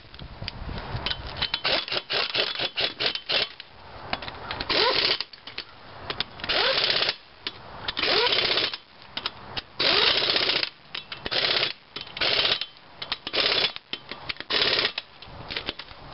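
An impact wrench on its lowest setting hammers the lug nuts of a police car wheel in repeated loud, rattling bursts with short pauses between nuts, up close.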